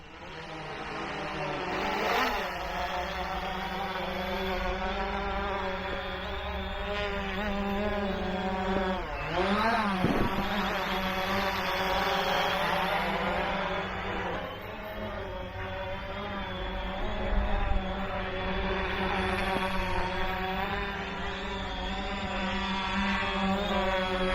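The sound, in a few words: Xiaomi Fimi A3 drone flying in gusty wind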